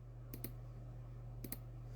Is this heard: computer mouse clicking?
yes